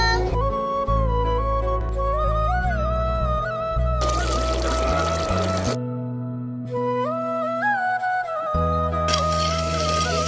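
Water poured into a pot of country chicken bhuna as the meat finishes browning with tomato purée, heard as a couple of broad rushing splashes beneath steady background music.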